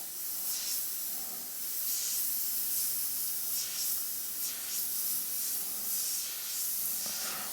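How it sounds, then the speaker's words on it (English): Double action airbrush spraying paint in fine, faint lines, a soft airy hiss that swells and fades in short repeated bursts with brief pauses between strokes. "this is far easier to do with a double action airbrush"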